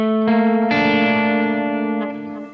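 Palm-muted electric guitar chord run through effects such as distortion and chorus, two sustained strums with a bright, buzzing harmonic tone that slowly fades, no voices.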